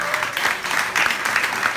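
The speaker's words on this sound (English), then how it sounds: "So give her a great round of applause." An audience at an equine medical center talk applauds to welcome the speaker, a short burst of fairly loud clapping in uneven surges.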